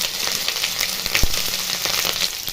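Whole cumin, grated ginger and green chili sizzle in hot oil, a close, continuous frying hiss with scattered crackles and one sharp pop, for a cauliflower pitha.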